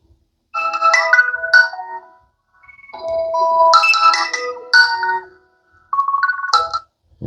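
Radio Waves ringtone on a Motorola G Stylus 2024 phone, a bright electronic melody in three loud bursts separated by short silences.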